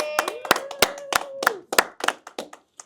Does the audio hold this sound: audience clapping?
yes